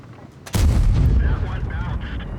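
A tank's main gun fires in a tank video game, one sudden heavy boom that rolls into a long rumbling decay after a brief quiet lead-in, close and loud.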